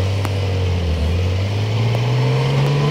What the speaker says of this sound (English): Driving the Porsche Sport Classic.